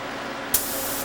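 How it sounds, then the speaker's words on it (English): A spray gun loaded with thinner fires a single loud, steady hissing burst as it is cleaned out through the tip, starting abruptly about halfway in and continuing to the end. "Pour the appropriate thinner into the cup and spray some of it out through the tip to clean it."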